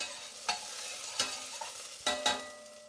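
Food being stirred in a hot pan during family meal prep, with four distinct scraping strokes of a utensil over a steady, soft sizzle; close and moderately loud, no voices.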